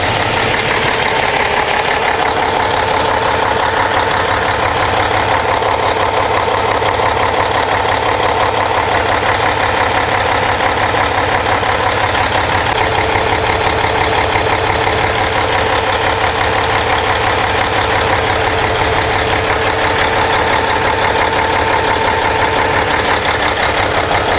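A Cummins ISX diesel engine runs steadily with its number 6 injector blocked off and fuel pressure around 29,000 PSI, a loud, close, unbroken rumble with a rough knocking texture and no speech.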